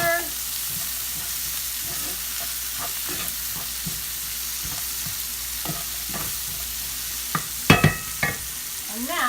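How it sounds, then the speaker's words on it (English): Chopped vegetables cook in a pan for a frittata, a continuous low sizzle broken by soft scraping stirs of a utensil, with a few sharper clacks against the pan toward the end. "Give that a stir."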